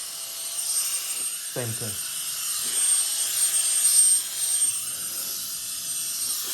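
A brushless electric air duster rated at 180,000 RPM runs steadily in its lowest of three speed settings, giving a close, even high-pitched whine and rush of air while someone talks briefly over it.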